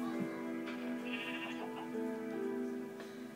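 Sheep bleat in the Minecraft video game, a few clear wavering calls close together, loud and unobstructed with no talking.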